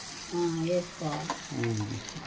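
Hot tempering poured over thick curd for yogurt vadas gives a steady, moderately loud sizzle with a faint crackle, lasting about two seconds, while a tonal hum rises and falls over it.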